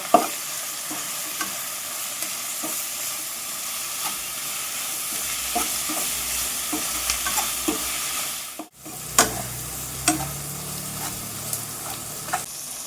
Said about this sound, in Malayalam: അതിലേക്ക് ഇഞ്ചി, കറിവേപ്പില, വെളുത്തുള്ളി, പച്ചമുളക് ഇവയിട്ട് നന്നായി ഇളക്കുക